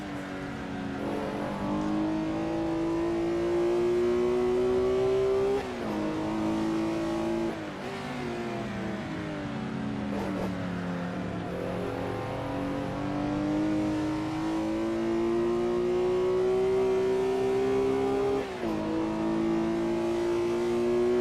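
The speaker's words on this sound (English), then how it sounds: "Make the Corvette go left." A Corvette racing in a historic sportscar race at Goodwood in Assetto Corsa, a loud continuous engine note rising steadily through each gear with brief drops at shifts, heard alone throughout.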